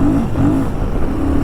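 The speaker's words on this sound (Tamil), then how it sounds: "இந்த வண்டியோட எக்ஸாஸ்ட் நோட்டையும் கேளுங்களேன் எப்படி இருக்குன்ட்டு" A Royal Enfield Guerrilla 450 motorcycle runs close by, its exhaust giving a steady, deep, rumbling drone that holds even without a clear rise in revs, with no talk over it.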